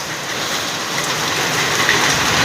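A steady nighttime downpour roars on, a dense and loud wash of rain that swells slightly toward the end, with no one talking.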